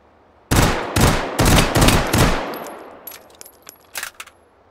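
Several loud, close gunshots from a burst pistol fired in the H3VR virtual reality shooting game, a quick string of sharp reports followed by fainter clicks and mechanical clatter as the weapon is handled.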